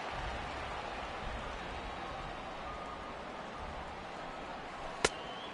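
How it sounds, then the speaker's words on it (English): Heavy rain in the baseball video game MLB The Show 18, a steady dense hiss of downpour over a low rumble, alone, with one sharp brief click near the end. "This has got to be the hardest rain we've seen all afternoon."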